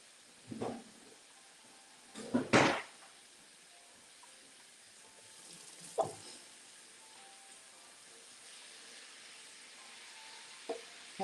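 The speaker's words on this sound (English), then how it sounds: "as you can hear, cabbage is already sizzling." Soft, steady sizzling of cabbage frying in a pan, broken by occasional clatters and scraping bursts, with no talking.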